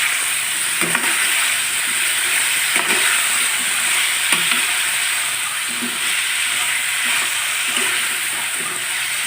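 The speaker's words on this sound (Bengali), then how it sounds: "মশলার সাথে ফুলকপি ও আলুটাও কষিয়ে নেব, যাতে মশলার সাথে ফুলকপি আলুটা ভালো করে কষানো হয়ে যায়।" Cauliflower and potato fry with spices in a pan, giving a dense, steady hiss of sizzling oil, close and loud, with faint stirring knocks every second or two.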